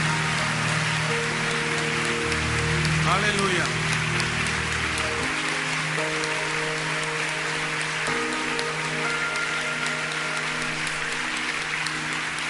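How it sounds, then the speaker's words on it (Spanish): A church congregation claps in steady, dense applause during a worship service, heard over a sustained musical backing while a voice speaks briefly. "Dale un aplauso fuerte a Dios."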